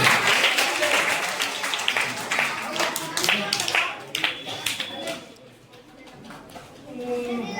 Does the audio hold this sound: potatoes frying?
no